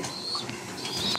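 A grizzle pigeon gives a soft, brief coo close by amid faint background noise, with no speech.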